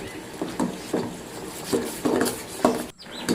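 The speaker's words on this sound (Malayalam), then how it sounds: "പിന്നെയും കൈ വിടാതെ ഇളക്കിക്കൊണ്ടിരിക്കണം" A spoon scrapes and knocks around a pan while pineapple jam, thickening with added sugar, is stirred, giving a steady run of soft rhythmic strokes roughly every half second, close and moderately loud.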